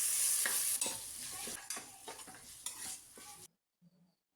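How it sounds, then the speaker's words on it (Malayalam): A piece of ginger and a head of garlic sautéing in a pan for beef curry, a soft hiss of oil with several scraping stirs before it cuts to near silence. "ഒരു തുണ്ട് ഇഞ്ചിയും ഒരു കുടം വെളുത്തുള്ളിയാണ് അതും ഇട്ടിട്ട് നല്ലപോലെ ഒന്ന് നമുക്ക് വഴറ്റി കൊടുക്കാം"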